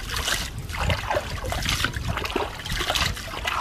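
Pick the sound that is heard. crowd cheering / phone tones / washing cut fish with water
washing cut fish with water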